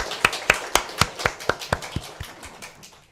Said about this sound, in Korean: 우리 하나님께 영광 박수 올려드리겠습니다.